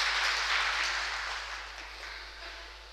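Audience at an Urdu literary seminar clapping, a dense wash of many hands that starts full and slowly fades over a few seconds, with no voices over it.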